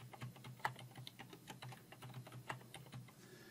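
A password is typed on a computer keyboard as soft, quick key clicks in an irregular run, faint and close, with no talking.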